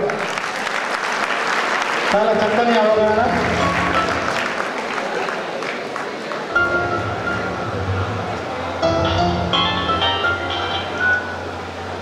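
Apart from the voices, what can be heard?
applause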